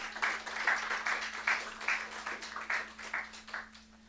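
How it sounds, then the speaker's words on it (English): A small workshop audience claps for a communications officer stepping up to speak at a youth conservation gathering, a light patter of hands with steady rhythmic beats, fairly quiet and fading toward the end. "Crystal, give her a round of applause as she comes."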